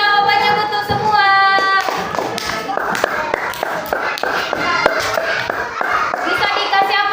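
Pupils in an Indonesian primary classroom clap together for correct answers, a run of brisk, fairly loud, rhythmic claps that follows a teacher's voice, with children's voices mixed in.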